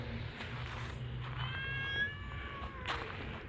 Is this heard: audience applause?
no